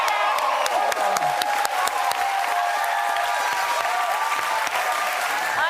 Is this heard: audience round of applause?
yes